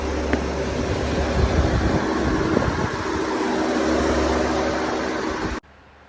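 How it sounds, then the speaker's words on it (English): An Audi A4 air-conditioning compressor runs with a steady mechanical hum and broad whooshing noise for several seconds, then cuts off abruptly to quiet near the end. "now you can hear the sound of the compressor"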